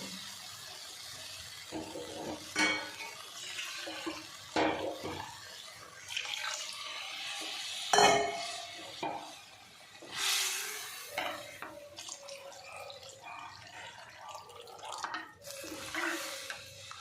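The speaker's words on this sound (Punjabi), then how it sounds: "ਲੋੜ ਅਨੁਸਾਰ ਇਹਦੇ ਵਿੱਚ ਪਾਣੀ ਪਾਵਾਂਗੇ ਅਸੀਂ" Water being poured into a pot of lentils and ridge gourd, heard as splashing gushes and trickles in uneven bursts with some stirring and clatter, without voices.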